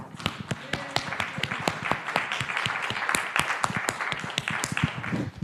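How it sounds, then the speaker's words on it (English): A church congregation claps in sustained applause at a Sunday service honoring graduates, dense overlapping hand claps with sharp individual slaps standing out, steady and fairly loud throughout. "Let's just clap our hands."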